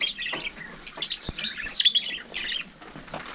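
Two small pet birds in a cage chirp and squawk in quick, bright bursts close by, with a sharp click partway through.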